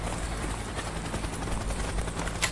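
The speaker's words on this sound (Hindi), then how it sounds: "वो हेलीकॉप्टर आ चुका है हमारा, अभी हम बॉर्डर को क्रॉस करेंगे और निकल जाएंगे।" A helicopter arrives in the video game IGI 2 as a dense, steady rotor and engine roar that fills the whole stretch at a constant, fairly loud level with no talking.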